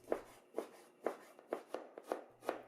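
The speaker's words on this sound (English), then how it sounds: "Cut the bacon into thin pieces." A knife chops pork belly and bacon into thin pieces on a board, with sharp, regular cuts about every half second, close and fairly quiet with no talking.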